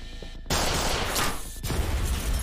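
Loud bursts of gunfire rattle out in the video game Judgment. A sudden harsh volley follows a quiet moment, breaks off briefly, then crashes back in with heavy rapid shots.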